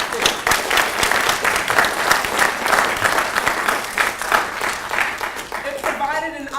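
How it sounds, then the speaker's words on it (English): Audience applause at a talk by a speaker at JSU: a sustained, dense wash of clapping from a large crowd, steady and loud throughout, with a voice briefly rising near the end. "Please give yourselves a round of applause for acting"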